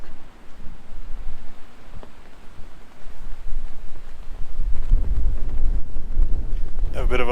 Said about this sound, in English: excuse the wind because it is bloody windy